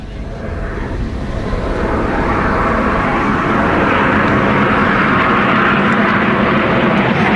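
Red Arrows jets performing a vertical break at the Eastbourne airshow, a loud, steady broadband roar of jet engines that swells in the first second and then holds without letup.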